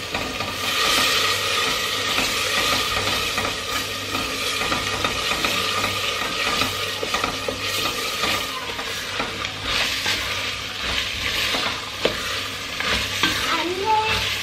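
Onion and minced meat frying with butter and chili flakes in a pan, a steady close sizzle broken by repeated stirring and scraping of a spoon against the pan, with no voices.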